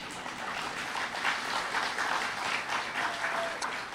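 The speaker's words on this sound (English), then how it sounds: "you can go ahead and clap" An audience claps at a rural electric cooperative's annual meeting, a steady, moderately distant wash of applause that swells and fades slightly over several seconds.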